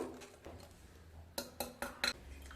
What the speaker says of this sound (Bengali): আবারও খুব ভালোভাবে ফিটিয়ে নেবো